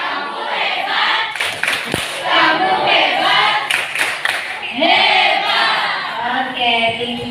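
A classroom of students claps for a presenting group, a burst of scattered, lively applause mixed with cheering voices and a teacher speaking over it.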